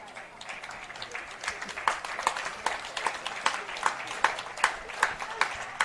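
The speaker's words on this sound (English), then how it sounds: "Nice round of applause from both sets of supporters here for Bunce." Both sets of supporters at a para football championship final clap for an injured player, a fairly faint, scattered ripple of applause with individual claps standing out, with voices mixed in.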